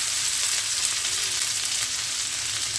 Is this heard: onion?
yes